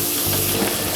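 Minced chicken fries in a hot pan while being stirred, a loud, dense, continuous sizzle close up with scraping texture throughout.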